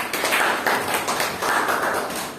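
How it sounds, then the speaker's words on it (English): A classroom group applauds a student group, giving a short burst of dense, steady clapping from many hands that lasts a couple of seconds with a slight lull midway. "Group 2, let us give them a round of applause"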